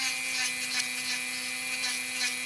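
A Dremel rotary tool grinding a dog's nail, a steady high-pitched whine with a constant hum, fairly faint and close, with slight rises as it touches the nail.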